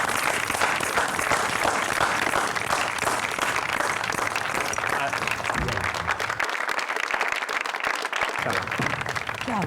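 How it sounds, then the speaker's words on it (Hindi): A large studio audience applauds loudly and continuously on a Pakistani television talk show, the clapping filling the whole stretch, with a voice faintly audible underneath. "आपकी तालियों में"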